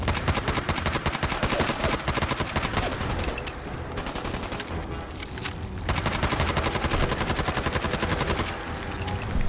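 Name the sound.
gunfire from a gun in the video game Fallout 4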